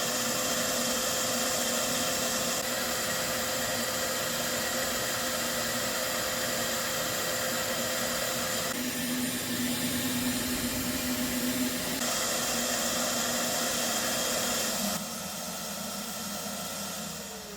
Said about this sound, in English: Okay, so we're cleaning this koi pond out and we're using this wet dry vac.